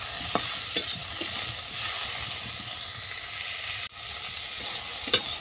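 Broccoli florets frying in a pan with salt and turmeric, a steady hissing sizzle with several sharp stirring scrapes and clinks, close and alone.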